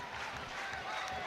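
Southend United supporters chant in a football stadium crowd at a York City match, a dense, continuous roar of many voices sustained throughout, heard from a distance with broadcast commentary ambience.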